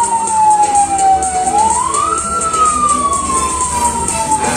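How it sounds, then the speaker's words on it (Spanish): A funeral caravan moves along a Puerto Rican street, its wailing siren sweeping up and down loudly and continuously over a steady rumble of traffic and engines. "Así que van a estar con bocina, sirena, música."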